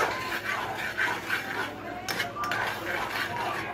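Crushed garlic and onion being stirred in a pan while cooking chicken croquettes, with repeated light scraping and clinks of utensil on cookware beneath an ongoing voice.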